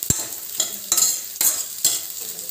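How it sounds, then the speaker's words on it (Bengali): Chopped onion and green chilies fry in a pan, with a soft steady sizzle broken by four or five sharp, rhythmic scrapes as a spoon stirs them. "পেঁয়াজটাকে একটু লাল লাল করে ভেজে নিতে হবে।"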